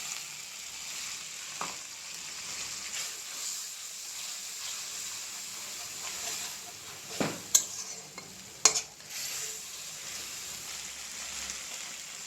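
Spice paste fries in a pan with a steady, close hiss, broken by a few sharp scraping clacks as it is stirred; no voices are heard.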